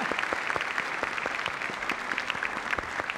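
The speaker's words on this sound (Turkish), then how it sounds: "Güzel kızımıza teşekkür ediyoruz, alkışlıyoruz" Studio audience applause on a 1997 Turkish television show, a steady dense patter of many hands clapping at moderate loudness for the whole stretch, with no talk over it.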